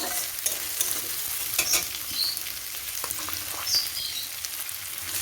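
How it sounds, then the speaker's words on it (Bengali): Capsicum and garlic fry steadily in a hot pan, a continuous sizzle broken by a few scraping stirs, close up, with no voices. "রসুনটা দিয়ে দিলাম। এরপরে আমি একটু আদা বাটা দিয়ে দেবো, ক্যাপসিকাম দিয়ে দিলাম। ক্যাপসিকামটাকে আমি ভালো করে ভেজে নেব একটুখানি।"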